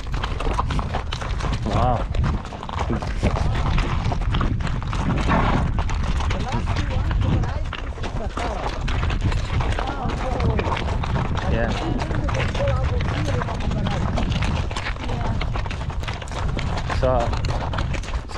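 Horse hooves clip-clop steadily through a ride near the Giza pyramids, a continuous loud outdoor wash with a voice speaking over it throughout.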